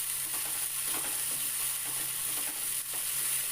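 Ginger paste sautéing in oil for a chitol fish curry, a close, steady soft sizzle with faint stirring scrapes and no voices.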